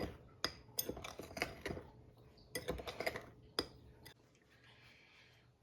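Dry ingredients are stirred in a bowl, making quiet irregular clinks and scrapes of a utensil against the sides in short clustered bursts, close by with pauses between.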